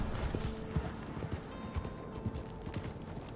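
Horse hooves clip-clopping in Red Dead Redemption 2 Online, a quick uneven run of close, fairly soft hoof strikes with no voices over them.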